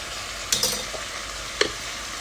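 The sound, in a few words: lamb frying and being stirred with garlic and ginger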